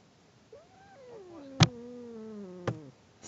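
A cat gives one long, drawn-out meow with a rising then falling pitch, close and clear. Two sharp clicks or knocks interrupt it, and no one talks.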